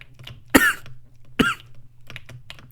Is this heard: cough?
yes